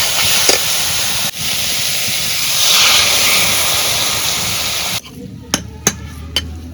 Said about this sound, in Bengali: পটল কষাই নিলে অল্প পানি দিয়ে দিই।